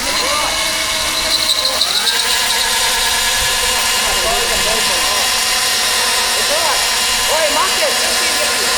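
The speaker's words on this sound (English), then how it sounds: "You can do another burnout." A mini motorbike does a burnout at a bike meet, its engine revving loud and close in repeated rising bursts over a constant rough roar, with voices around it.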